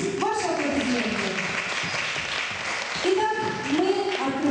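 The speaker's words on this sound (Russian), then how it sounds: "Ваши аплодисменты." An audience applauds at a belly dance competition, steady broadband clapping throughout, overlaid by a tonal voice or music that rises and falls over the crowd noise.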